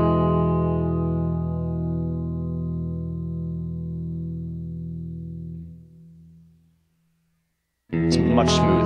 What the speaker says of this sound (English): I didn't have to wait for all the reverb to ring out before I stopped